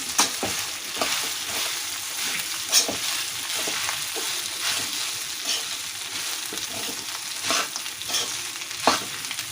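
Lemon rice is stirred in a pan over a low flame, the spoon scraping and turning the mixture in irregular strokes over a soft, continuous sizzle, close and fairly quiet, with no voices.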